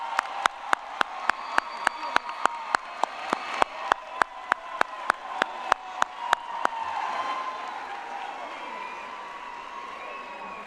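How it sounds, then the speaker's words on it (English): A crowd at a university graduate commencement ceremony applauds. One close, sharp clapper keeps a steady rhythm over a diffuse wash of clapping and cheering that fades slightly toward the end. "Let's give them a thunderous round of applause."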